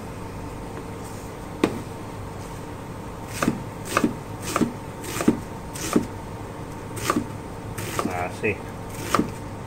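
A whole onion is chopped on a board with sharp knife knocks, sparse at first and then in quicker irregular runs, while a person talks briefly.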